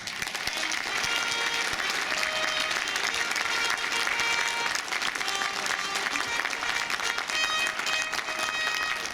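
Steady, dense applause from an audience at the Buzdygany 2017 awards ceremony welcomes two doctors to the stage, a continuous even roar of many hands clapping without a break.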